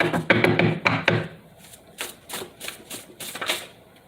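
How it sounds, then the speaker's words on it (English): Tarot cards are shuffled in a rapid run of crisp riffling clicks and flutters, loud at first and then continuing in lighter, separated bursts, close up with no talking. "I shuffle my cards before my readings"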